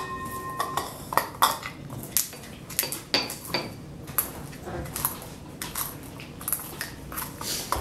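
Mustard seeds are pounded and stirred to a powder, giving a run of sharp, irregular knocks and scrapes of a pestle or utensil against a hard bowl, with some faint clinks between strokes.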